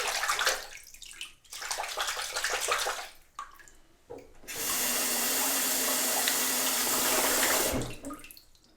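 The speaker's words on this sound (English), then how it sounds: "I'm going to rinse this out." Running tap water pours over a Merkur Progress safety razor as it is rinsed, the stream broken by short pauses before settling into one long, loud, steady gush that then cuts off.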